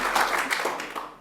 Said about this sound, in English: So let's give Sally a big round of applause.